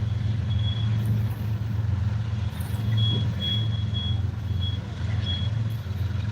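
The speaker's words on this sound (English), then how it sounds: "Wait for this engine to go by." A loud engine rumbles close by with a heavy, steady low drone that holds for several seconds, with faint high beeps sounding now and then above it.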